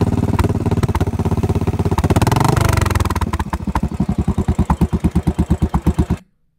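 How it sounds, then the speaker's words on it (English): A Royal Enfield Classic 500 motorcycle with a megaphone exhaust revs loudly up close, then settles into a deep, rhythmic pulsing idle before cutting off abruptly. "getting rid of the stock exhaust and adding this megaphone exhaust"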